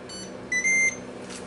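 Ninja Foodi XL Pro air oven beeping once it has preheated, giving a short faint tone followed by a clearer sustained electronic beep, close by over a low hum, with no talking.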